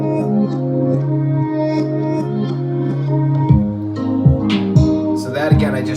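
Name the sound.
reversed last chord effect in a beat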